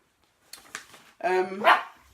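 A small dog yips twice, then lets out a long whining bark that rises in pitch, loud and close in a quiet indoor room.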